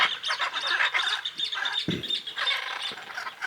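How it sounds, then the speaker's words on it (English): Deep blue birds with yellow eyes chatter and call in the Pantanal, Brazil, a steady overlapping stream of chirps and squawks from several birds heard at some distance, with one brief low thump partway through. "And off in the distance, you can hear them chattering."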